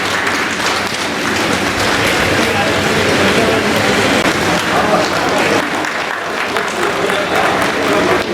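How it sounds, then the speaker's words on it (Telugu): A village gathering applauds a sarpanch being honoured, dense continuous clapping from a crowd filling the whole stretch, loud and close with scattered voices mixed in. "దయచేసి అందరూ చప్పట్లు కొట్టాలి"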